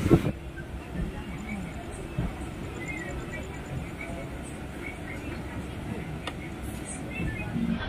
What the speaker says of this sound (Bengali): আর আমাদের ট্রেন এখন হাওড়া স্টেশন থেকে ছেড়ে দিল দীঘা যাওয়ার উদ্দেশ্যে